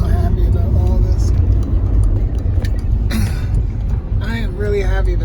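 Interior road noise from a 2005 Volkswagen Passat B5.5 wagon driving, a steady loud low rumble throughout with someone talking over it.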